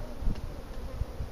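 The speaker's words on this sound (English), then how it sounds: "Because there's some bees in there." Bees buzz in a large hive during a removal, a dense, continuous drone at moderate volume with no voices.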